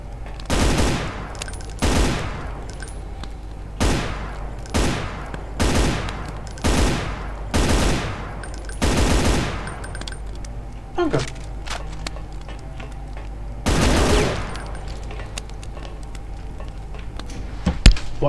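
Bursts of gunfire in the first-person shooter Brutal Doom, played in GZDoom, repeating in loud, regular salvos roughly every second or two, with someone speaking over the shooting.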